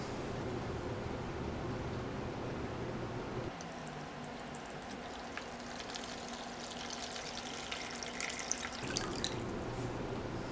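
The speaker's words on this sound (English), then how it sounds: "we're going to start off by pouring some water into our tray" Water is poured into a tray for marbling holiday ornaments with nail polish, a steady splashing pour in the middle section over a quiet indoor background.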